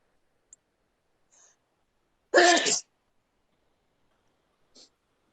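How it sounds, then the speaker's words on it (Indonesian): One short, sharp sneeze indoors, close and loud, with faint clicks and small rustles before and after in otherwise quiet surroundings. "saya sampai bersin nunggunya"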